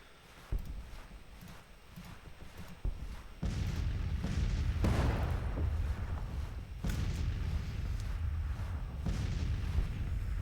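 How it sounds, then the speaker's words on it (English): Artillery canister fire in Grand Tactician: The Civil War, at the Battle of 2nd St. Louis: a dense, low rumbling barrage of overlapping booms that swells and holds at a steady roar, with sharper blasts standing out and no voices. "They're gonna march right into canister fire."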